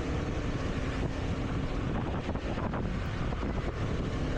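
Wind rushing past a motorbike moving at speed on a city road: steady, loud buffeting roar against the microphone with low rumble beneath, continuous throughout and no speech.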